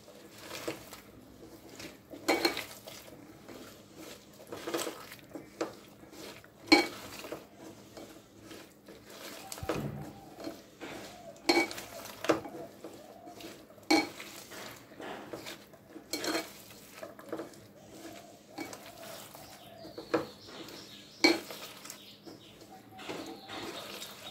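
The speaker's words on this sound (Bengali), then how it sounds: "মশলা দিয়ে এখন তরকারিগুলো মাখিয়ে নেব।" Spices and vegetables being mixed into a pot with mustard oil, giving repeated scraping and clinking strokes of a utensil against metal at an uneven rhythm, close and moderately loud, with no talk.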